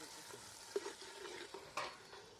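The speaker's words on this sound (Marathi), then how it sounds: "टोमॅटो पण आहे ना त्यामध्ये मस्त असा फ्राय करून घ्यायचा" Tomato frying for pav bhaji on a wood-fired chulha, a steady quiet sizzle broken by a few sharper stirring scrapes, with no voices.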